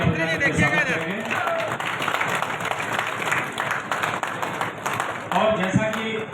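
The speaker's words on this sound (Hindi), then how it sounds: "हम सभी जोरदार तालियां बजाकर स्वागत करेंगे।" A crowd applauds the formal launch of a greenfield township project in India with a sustained wash of clapping, while a speaker talks over it through a public address system at the start and end.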